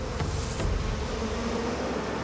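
Asian honeybees buzzing as they vibrate their flight muscles to generate heat, a continuous low droning hum that holds steady and fairly loud throughout.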